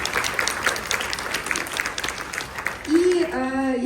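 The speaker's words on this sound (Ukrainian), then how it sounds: "Давайте поаплодуйте самі зараз собі. Собі аплодуйте." A large conference audience of managers at a summit in Bukovel claps together in a sustained burst of applause, then a loud electronic tone rises near the end.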